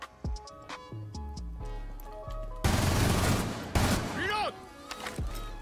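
Gunfire in Rainbow Six Siege: a run of sharp single shots in rhythm, then a loud sustained burst of automatic fire, brief pauses and a final shot, with game effects sweeping through.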